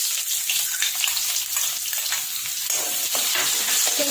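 Chopped onion added to hot oil already seasoned with cumin and asafoetida, sizzling and frying steadily and loudly up close, with stirring as ragda chaat is cooked.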